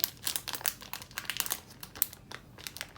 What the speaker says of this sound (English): We'll open the package up. So same type of plastic in the box.